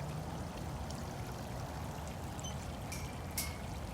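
Water splashing and pouring as Cali, a rescued big cat, plays in her water, a low steady trickle with a few sharper splashes near the end, faint and without talk.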